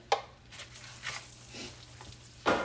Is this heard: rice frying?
yes